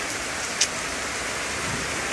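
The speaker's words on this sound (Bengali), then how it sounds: "কী হারে বৃষ্টি হচ্ছে" Heavy rain pours down in a thunderstorm, a dense, steady hiss of water falling on surfaces that holds constant throughout, with no voices.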